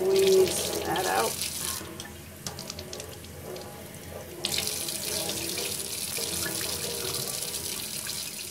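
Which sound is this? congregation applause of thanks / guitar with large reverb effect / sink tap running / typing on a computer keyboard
sink tap running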